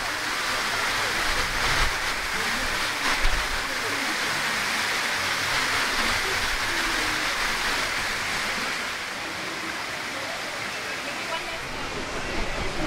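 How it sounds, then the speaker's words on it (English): A waterfall on a cruise ship pool deck aboard Liberty of the Seas pours in a steady, loud broadband rush of splashing water that holds constant throughout, with no clear voices standing out. "pretty waterfall"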